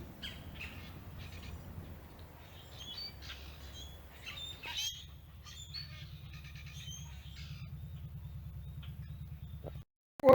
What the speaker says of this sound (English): What kind of a crazy bird is that?